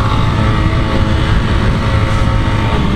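Engine of a 1983 Honda TLR 200 trials motorcycle while riding, a steady close thrumming drone with a busy low pulse and wind noise, unbroken for a few seconds.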